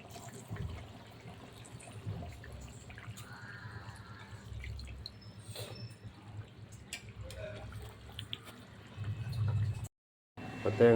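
Coconut milk poured into an egg curry in the pan, faint dripping and trickling of liquid under soft background talk, with a brief gap near the end.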